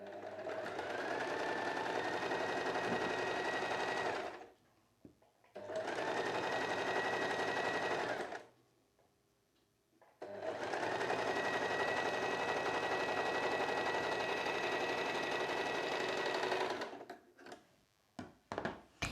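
A sewing machine runs a straight stitch along a folded blouse hem: three sustained whirring, rapidly ticking runs with short silent pauses between them, then a few quick clicks at the end, close and steady, with no voices.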